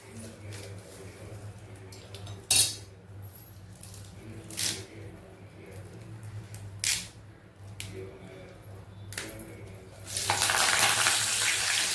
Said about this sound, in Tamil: இப்போ கருவேப்பிலையே வறுத்துருவோம்.